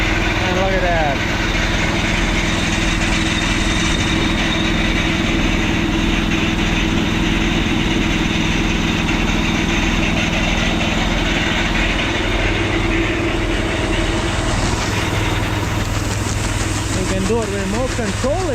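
A remote-controlled 1053 grain auger driven by a steady running engine, a loud continuous drone with low rumble that holds throughout, with people talking over it.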